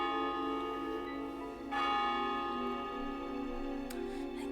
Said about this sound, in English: I gazed at the bell on the clock tower.